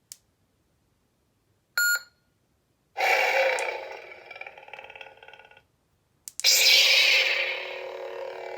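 A custom Starfall Sabers lightsaber gives two short electronic beeps as its auxiliary button is held, followed by louder humming, crackling blade sound effects that cut in and out.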